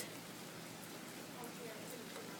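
Steady rain falls during cold, rainy summer weather, a continuous broadband hiss of drops on surfaces with no clear pauses, moderately loud and close throughout.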